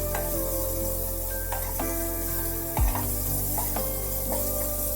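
Chopped garlic and thinly sliced onion fry in fully melted butter, giving a steady close sizzle with occasional stirring clinks and scrapes of the pan.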